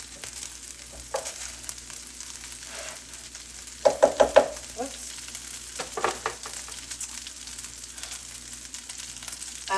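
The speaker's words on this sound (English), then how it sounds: "I'm going to let it melt right there on this half of the pan" A tablespoon of butter melts in a hot pan with a steady soft sizzle, broken by a few louder crackling pops and scraping clicks partway through, close and moderately loud with no talking.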